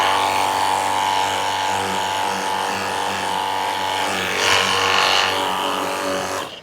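A GardenJoy 21V cordless pressure washer runs steadily with its 2-in-1 attachment fitted, giving a continuous close motor whine and hiss that swells briefly near the end, with no talking over it.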